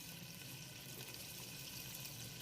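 Half a glass of water poured into a pot of sugar-and-spice tempering for zarda, a steady close splashing pour with a sizzling edge, running without pause and with no talk.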